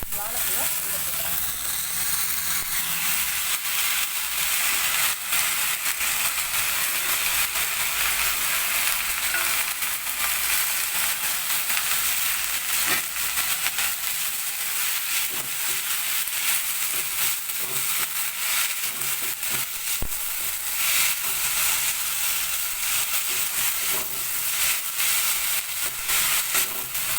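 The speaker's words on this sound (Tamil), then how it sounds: "இப்போ அவிச்சு வச்சுருக்க வாழைப்பூவை உள்ள போட்டுறேன்." Boiled banana flower fries with sautéed onions in a pan, a steady bright sizzle and hiss running throughout, broken by occasional stirring scrapes, close up with a voice speaking now and then over it.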